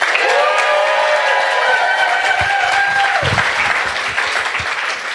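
A live audience at an Ignite Denver talk event claps in loud, dense applause that carries on steadily and fades slightly toward the end, with a tonal whistle-like sound passing over it.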